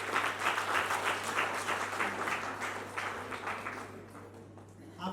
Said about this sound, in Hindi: मैम के लिए ताली बजाइए।